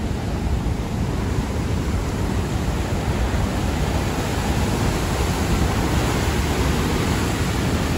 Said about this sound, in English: Plenty of water coming out